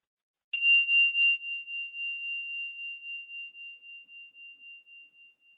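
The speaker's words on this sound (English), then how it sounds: "I'll ring the bell" A single meditation bell is struck, a clear ringing tone that fades slowly into silence over several seconds.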